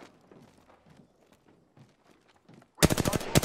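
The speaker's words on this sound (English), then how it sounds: "The enemies are shooting at me." Rapid automatic gunfire from enemies in the battle royale game Apex Legends erupts in a loud close burst near the end, after a stretch of faint scuffling and movement sounds.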